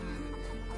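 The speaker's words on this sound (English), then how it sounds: "Chickens!" Chickens cluck in A Plague Tale: Innocence, a short, steady burst of fowl noises under a continuous game backdrop with no talking.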